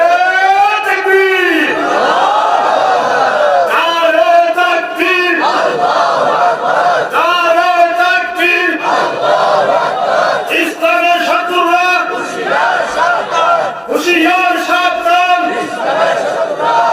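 A large crowd at an Islamic religious gathering loudly chants the takbir in repeated unison bursts, each answering a single leader's call, several rounds of rising and falling shouts filling the space.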